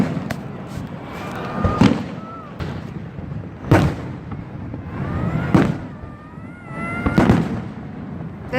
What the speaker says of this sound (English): And now we are doing fireworks.